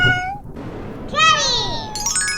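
A cartoon cat lets out a few bright meows, a short one first, then a longer wavering cry, with music-like tones around them.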